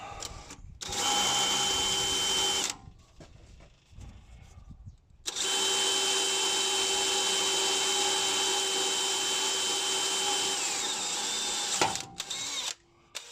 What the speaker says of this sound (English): I'll use a teeny drill bit.